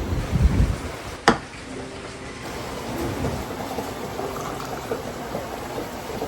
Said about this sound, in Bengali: বৃষ্টি বিদ্যুৎ চমকাচ্ছে